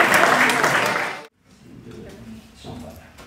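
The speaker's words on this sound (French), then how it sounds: "Oh, il mérite un applaudissement." Ceremony audience applause at a confrérie gathering in Lausanne, a dense burst of clapping that stops abruptly, followed by quieter room murmur and a few scattered claps.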